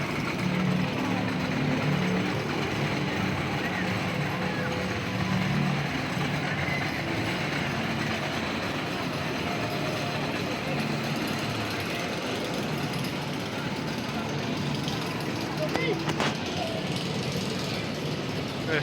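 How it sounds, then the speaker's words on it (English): Wicker Man wooden roller coaster train at Alton Towers climbing its lift hill, a steady mechanical rumble and clatter heard from a service road amid continuous outdoor park noise, with voices in the background. "There's a train going up the lift hill."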